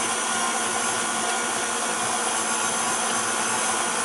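An electric mixer running on low churns cookie dough as dry flour ingredients go in, a loud, steady motor whir with a broad even hiss that holds constant and close with no pauses or talking.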